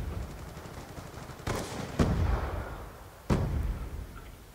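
Gunfire from a video game shooter sounds as a few booming shots and bursts with a rumbling tail, loud and close, separated by quieter moments of background battle noise.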